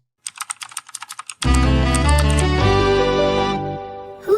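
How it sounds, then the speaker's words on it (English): A burst of quick keyboard keystrokes clicks out a rapid, uneven rhythm, then gives way abruptly to a loud sustained musical sting that fades out. No one speaks. "Who's that typing in the comments?"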